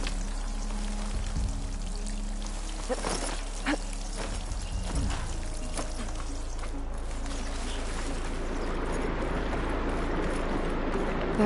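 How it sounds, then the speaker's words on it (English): Water pours and streams steadily into a room in Horizon Forbidden West, a continuous rushing flow with scattered drips and splashes, growing fuller toward the end. "I can hear water in the room again"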